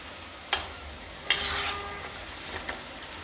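Namak pare frying in oil, a steady moderate sizzle close by, with a few sharp clinks of a spoon stirring them in the pan and no voices.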